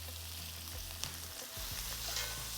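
Butter and rosemary sizzle around a flipped steak in a frying pan, a continuous soft hiss with a few faint pan knocks, heard alone.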